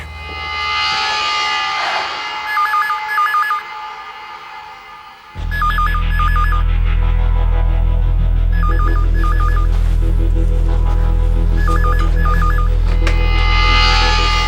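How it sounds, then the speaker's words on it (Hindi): A telephone rings in repeated short trilling bursts, four rings spaced a few seconds apart, loud and close over a steady low hum. "अब फोन करता हूँ मैं।"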